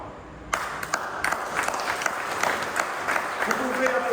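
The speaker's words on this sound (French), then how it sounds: "Vous pouvez applaudir tous ces gens" A church congregation at a Christ the King feast applauds parish volunteers, a burst of mixed hand clapping that starts abruptly and continues steadily in a reverberant hall, with some voices underneath.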